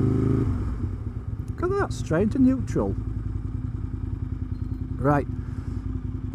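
An Aprilia RSV 1000 10th Anniversary Edition sits in neutral at traffic lights, its engine idling with a deep, steady, rumbling low throb close by, while someone talks over it.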